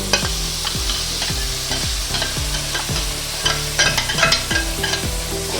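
Thin slices of raw green mango go into onions frying in a pan for a mango curry, with rhythmic spoon-scraping stir strokes over a constant close sizzle and no voices.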